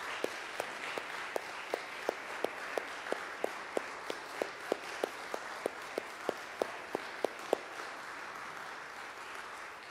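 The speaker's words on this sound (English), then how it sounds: "would you please stand so we can give you a round of applause?" A church audience applauds veterans during a Sunday service, a steady wash of clapping with a regular train of louder, closer single claps standing out on top.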